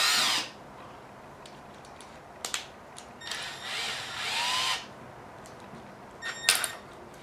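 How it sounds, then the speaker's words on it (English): A power drill whirs in short bursts, starting and stopping several times, spinning a Losi Rock Rey RC car's rear differential with a bent axle, mechanical noise close by. "I hooked up my drill to this"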